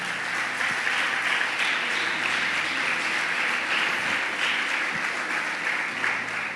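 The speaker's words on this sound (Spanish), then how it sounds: "¿Cuánto le dan un aplauso a Jehová de los ejércitos?" Continuous applause from a large church congregation, dense and sustained throughout, with no pauses.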